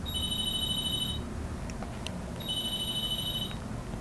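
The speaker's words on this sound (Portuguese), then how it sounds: "Aí o telefone toca." A telephone rings in two clear electronic bursts of bright, pulsing tones, each about a second long, separated by a short pause, heard alone at moderate volume.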